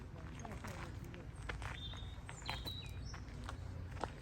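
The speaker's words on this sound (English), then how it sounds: "Listen to the birds chirping." Faint, scattered bird chirps in a castle garden rise over a low outdoor rumble, with a few quick high twitters and soft footsteps.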